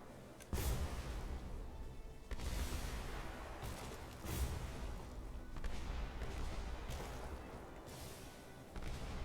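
Repeated cannon fire from airships in the video game Airship Kingdoms Adrift, heavy booming blasts every couple of seconds over a continuous rumbling battle din, loud and close.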